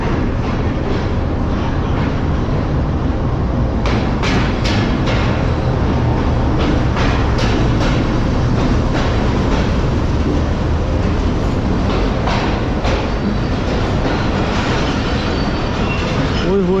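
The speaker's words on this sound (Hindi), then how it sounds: "तो ये सामने से आ रही है 16 डाउन कराची एक्सप्रेस, यानी कि आज की हमारी ट्रेन कराची तक की।" Karachi Express passenger train with a GEU 40 diesel locomotive at the lead, rolling in at a station with a steady broad rumble, wheel and coach clatter and sharp transient clanks throughout, loud and close, with people talking faintly.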